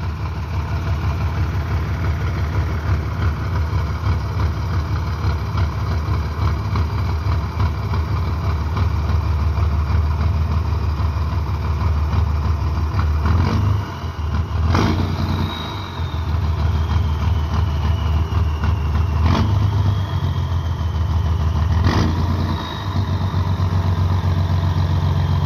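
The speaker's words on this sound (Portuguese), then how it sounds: "o celular pega o barulho do motor também." A low, steady diesel engine of a Mercedes-Benz 1621 truck idles continuously close by, a heavy rumble with brief clanks and shifts in the middle.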